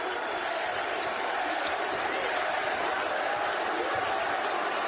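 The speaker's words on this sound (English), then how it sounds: "Crowd suddenly back in" Crowd at an Arizona State versus Arizona college basketball game roars continuously in the arena, a dense, loud wash of cheering and noise with faint court sounds underneath, sustained throughout.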